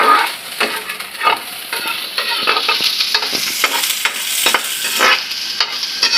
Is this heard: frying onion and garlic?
yes